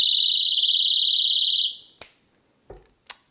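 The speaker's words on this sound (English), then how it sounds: "This pin separates and activates the sound alarm." A personal safety alarm set off by pulling its pin gives a loud, warbling high-pitched siren for about a second and a half with a hand cupped over it, then cuts out, followed by a few sharp handling clicks and knocks.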